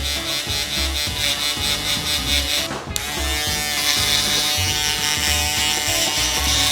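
Loud, close electric hair clippers buzz steadily while skinning a half fade haircut, with a brief dip and pause before the motor hum resumes at full strength.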